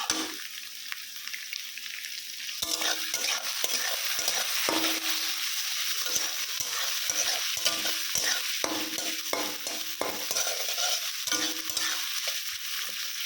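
Onion, tomato and green chili fry in a pan with a steady bright sizzle, broken by repeated scraping stirs of a spatula, close and continuous.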